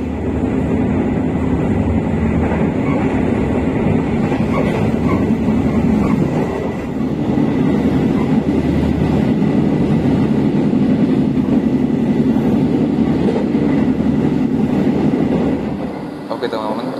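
Mutiara Timur passenger train in Indonesia running on rails, approaching Mojokerto station, heard as a steady loud rumble with rolling rail noise throughout, easing briefly near the end.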